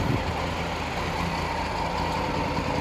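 A Triumph Tiger 850 Sport motorcycle idles close by, its engine holding a steady, even, low rumble with a faint ticking pulse and no talk.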